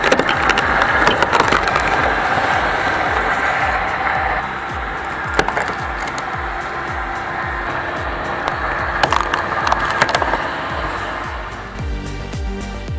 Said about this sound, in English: The rhythmic sound of cracking wood and the clean, seamless split are deeply satisfying.